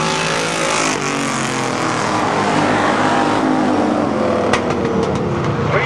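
Thunder Cars race car accelerating hard at a Canada Day feature race, a loud continuous engine roar with droning pitch and dense crowd-track ambience, close and steady throughout.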